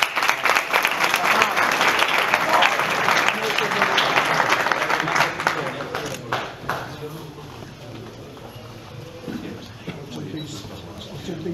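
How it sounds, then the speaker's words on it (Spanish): Audience applause at a boxing weigh-in for Venezuelan boxer José Núñez, dense clapping with crowd noise and voices, loud at first then thinning to scattered claps after about six seconds. "El aplauso para él"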